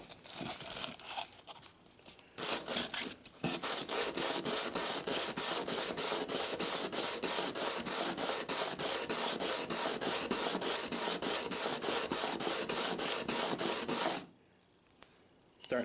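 A Tapco vertical grip is sanded with 80-grit sandpaper in steady, rapid back-and-forth strokes, giving a loud, close, rhythmic rasping scrape that runs for about twelve seconds before stopping.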